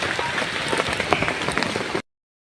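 Rain at the Mount Sagara campsite in Garut, a dense close patter of drops on a surface, steady for about two seconds before cutting to silence.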